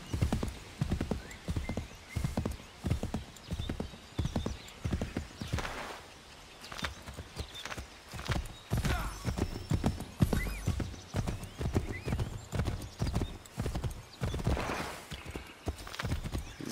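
Horse hooves clip-clop at a steady galloping rhythm in the Assassin's Creed 3 Remastered video game, close and continuous, with occasional snorts and a brief whinny over ambient game sound.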